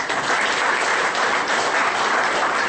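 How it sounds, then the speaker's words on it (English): Audience at an e-Government Cloud workshop applauding the technical team that designed and developed the system, a brief, steady burst of many hands clapping, loud and close, with no talking. "So I think round of applause."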